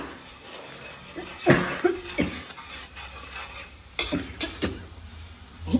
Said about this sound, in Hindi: मसाला इतनी तेज हो गया कि खांसी आने लगे